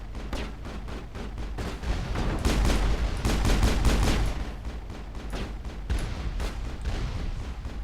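Squad gunfire crackles in the sci-fi shooter Mass Effect during a fight against geth, with rapid overlapping bursts and heavier booming shots, loud and continuous, swelling in the middle before tapering to scattered fire.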